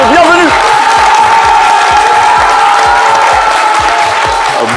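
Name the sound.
studio audience welcome applause and cheering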